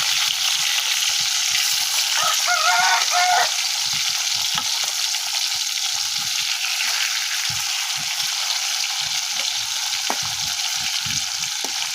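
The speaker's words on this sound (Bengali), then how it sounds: "দেখো এখানে আমি চটপটি ভাজি করতেছি, রান্না করবো।" Chatpati frying and sizzling in a pan on a home stove, a steady dense crackle running the whole time with a few soft stirring clinks and scrapes near the start, close and fairly loud.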